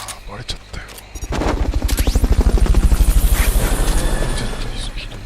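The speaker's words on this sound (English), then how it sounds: "Fulton recovery subject confirmed on board helicopter." A helicopter in a video game: after a few sharp cracks, a close, loud rotor thumps in a fast, even rhythm and then slowly fades, with some speech-like sound mixed in.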